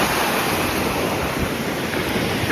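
Ocean surf washes continuously onto a windy beach with heavy wind rumble buffeting the microphone, loud and close.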